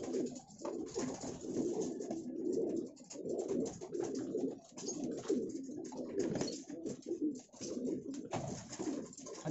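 Pigeons coo repeatedly in soft, low, throaty phrases, fairly close, with a little rustling between calls and no talking.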